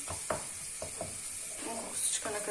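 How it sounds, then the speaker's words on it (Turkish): Onions frying with a spoonful of flour in a pot for a lentil soup, sizzling steadily while a spoon stirs and scrapes in several short strokes, close by with no talk. "Soğanlarım kavrulmaya başladığında bir yemek kaşığı un koyuyorum"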